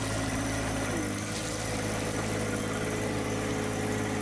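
Compact John Deere 1025R tractor engine running steadily during backhoe digging work, a continuous mid-to-low droning idle with constant vibration, close and loud with no talking.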